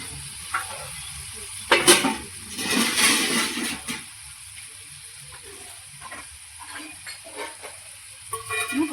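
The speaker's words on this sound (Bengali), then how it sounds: "মশলাটা একটু জল দিয়ে ভালো করে কষে নেব।" Spice paste (masala) with a little water frying in a pan, a broad sizzling hiss swelling in bursts across the clip, loudest in the middle and again at the end, with faint background sounds.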